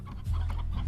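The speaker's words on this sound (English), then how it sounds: "Oh man, loads of chickens" Chickens cluck in the Slime Rancher video game, a brief burst of low clucking calls, fairly close and moderately loud, with no talking over them.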